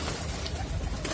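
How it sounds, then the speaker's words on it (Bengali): Pigeons coo softly and close by after a storm while being bathed in potash and alum water, low murmuring calls over a rushing background wash. "কবুতরগুলাকে ঝড় বৃষ্টির পরে একটু গোসলে দিলাম"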